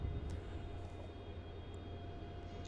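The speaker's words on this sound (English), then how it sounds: "Got that Jetstar taxiing over towards Terminal 4." A Jetstar airliner taxiing at Melbourne Airport, heard as a steady, low engine rumble and whine that stays even and moderately distant throughout, with no talk.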